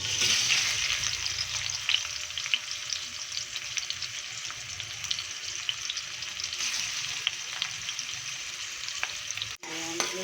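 Onions frying in a pan for Filipino beef steak, a constant bright sizzle with faint stirring scrapes that runs unbroken until a brief knock near the end.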